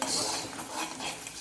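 A spoon stirs a corn flour and water slurry into a simmering chilli sauce in a pan, a brief close scraping swirl over a faint sizzle, with no talking.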